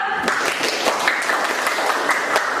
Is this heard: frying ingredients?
no